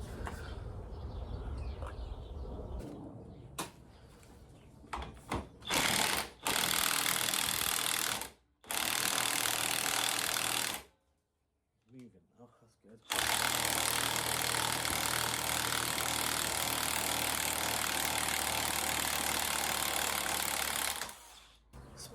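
An impact wrench hammers at a seized van shock absorber nut in long, loud, rattling bursts, with a short pause between runs and a long final burst of several seconds.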